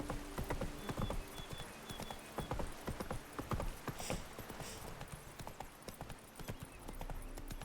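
Roach, Geralt's horse in The Witcher 3, gallops in a rapid, steady clip-clop of hooves at moderate volume, with faint mechanical creaks and a brief snort.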